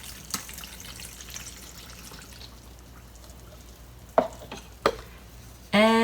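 Warabimochi powder, sugar and water get stirred together in a pot, a soft, faint scraping swirl with a few sharper clinks of the utensil against the pot near the end.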